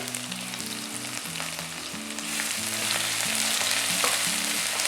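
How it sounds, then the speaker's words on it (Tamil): Onions and curry leaves sizzle steadily in a hot pan for tomato rice, a continuous close frying hiss that grows a little louder midway, with no voices. "நம்ம இதை வறுக்கணும். அடுத்தது வெங்காயம் சேர்க்குறேன்."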